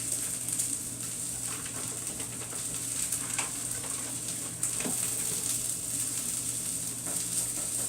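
Green beans sauté in a hot pan as they are stirred, a steady close sizzle with soft scraping and occasional clinks of the utensil, continuing evenly throughout.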